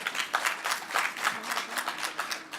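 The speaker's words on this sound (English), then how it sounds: "now I know you're not supposed to clap" An audience at a session applauds with dense, moderately loud clapping that holds steady with a slightly pulsing rhythm for a couple of seconds.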